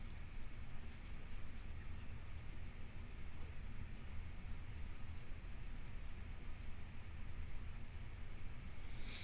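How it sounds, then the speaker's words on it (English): A pen or marker scratches steadily across paper or a board, with short repeated strokes and brief pauses over a faint background hiss, close and continuous, no talking. "So let me write that."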